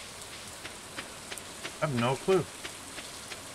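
Rain falls steadily in the farming game Stardew Valley, a soft, continuous patter and hiss, while a voice briefly speaks over it.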